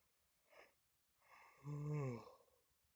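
A soft breathy intake followed by a drawn-out, voiced yawn that rises and falls, heard close and fairly quiet.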